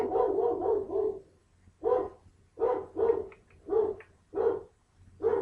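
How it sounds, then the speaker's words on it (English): Repeated dog barks at a steady rhythm, moderately loud and fairly close, with short pauses between single barks after an opening flurry. "listening to my dogs bark their lungs off"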